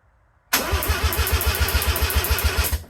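The ported rotary engine of a Mazda RX7 cranks on the starter with spark and fuel disconnected, making a loud, even, rhythmic churning for about two seconds after a sudden start.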